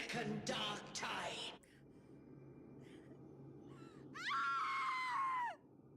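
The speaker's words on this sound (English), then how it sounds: "That scream didn't sound like it came from the same voice actor." A scream from a character in the video game Wuthering Waves sounds as a loud, harsh, wavering cry lasting about a second, preceded by earlier bursts of shrill, screeching vocal sound and brief quieter cries.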